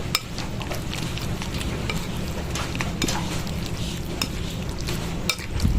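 A spoon works through a thick dilis (anchovy) batter mixed with onion, egg and seasonings, giving a steady close wet scraping and squelching, with a few sharper clinks against the bowl.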